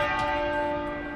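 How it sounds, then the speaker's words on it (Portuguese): A single church bell tolls in mourning for Prince Philip, one resonant strike ringing out with a long humming decay, heard alone. "As 99 badaladas lembravam a idade do príncipe Philip"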